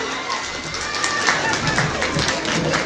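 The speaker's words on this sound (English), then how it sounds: "continue keep clapping." An audience claps at a school annual day function, a dense, steady patter of many hands that carries on without a break, with crowd noise mixed in.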